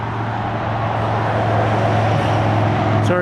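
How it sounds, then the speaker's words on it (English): Steady broadband road traffic rumble beside an RV park in Hill City, South Dakota, a continuous near wash of passing vehicles with a low engine drone throughout. "Sorry about the road noise."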